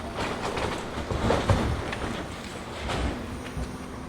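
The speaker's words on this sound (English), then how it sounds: "The tram just gone" A Blackpool tram rolls past, rumbling and clattering over the rails with scattered knocks and squeaks, moderately close and fading slightly.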